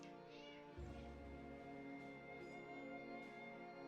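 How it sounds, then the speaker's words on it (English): Cats yowl and meow in the background, a faint drawn-out cry with a few shorter calls following, heard low in a quiet room. "the cats are yelling"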